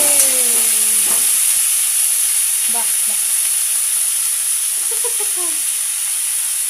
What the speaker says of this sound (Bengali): এই কি মা, এটা শাক ভাজা।